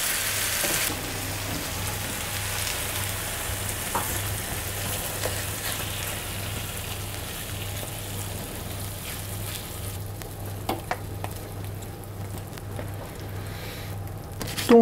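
Apples caramelizing in a pan give a soft, steady frying sizzle that runs continuously at moderate volume, with a few faint clinks near the end.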